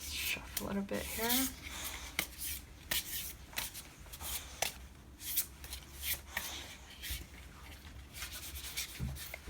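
Tarot cards being shuffled close up, repeated soft riffling and rubbing bursts in an uneven rhythm, with a brief voice early on.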